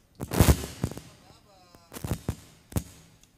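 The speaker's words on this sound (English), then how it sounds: "It's fireworks." Fireworks burst outdoors in a series of sharp, booming pops, a loud cluster at first, then scattered single bangs a second or so apart, with reverberating tails between them.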